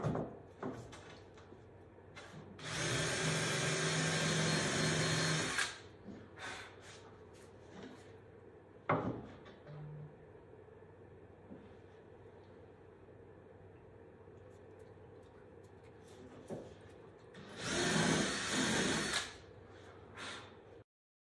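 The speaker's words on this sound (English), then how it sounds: "Let's just drill a hole at both ends of it," A drill bores holes into a wooden paddle board in two loud bursts of a few seconds each, separated by quieter workshop handling noises and knocks.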